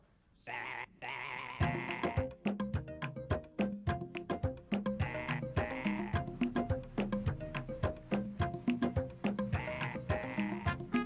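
A sheep bleats again and again, loud and close, in a rapid string of harsh, wavering calls that runs on for several seconds after a brief quieter start.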